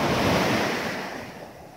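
Sea surf washing onto an empty autumn beach at Arkhipo-Osipovka, a loud close wave rush with wind noise on the microphone, fading as the water draws back.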